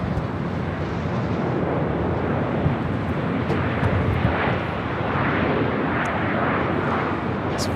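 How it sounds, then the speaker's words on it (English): EVA Air Boeing 777-300ER arriving at LAX from Taipei, a steady broad jet roar sustained throughout, loud and fairly close with no talk. "Next arrival on the north side, EVA Air Flight 16 coming in from Taipei"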